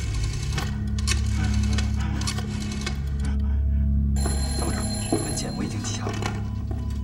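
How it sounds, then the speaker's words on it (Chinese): An old telephone rings with a steady bell in a wartime film scene, sounding over a constant low hum and background music while voices speak nearby. "找黄玉池接电话"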